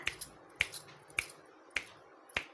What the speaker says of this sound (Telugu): ఈ రెండు చిటికెల పందిరి అంటే ఇలా చిటికెలు వేసుకుంటూ